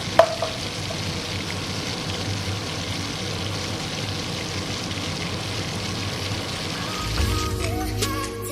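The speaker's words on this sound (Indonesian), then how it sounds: "kita gongso sampai baunya harum ya teman-teman." Red curry spice paste stir-frying in a pan for a tempeh and tofu curry, a steady, close crackling sizzle that holds evenly, with a louder scraping burst near the end.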